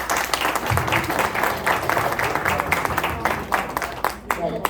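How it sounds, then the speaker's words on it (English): An audience at a university dissemination event in Brasilia gives a round of applause, dense steady clapping from many hands that continues throughout and thins slightly toward the end. "I want a round of applause"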